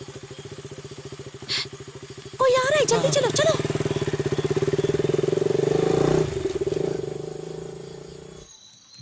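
A motorcycle engine idles with a steady low throb, then revs louder as people talk quickly over it, before cutting off near the end.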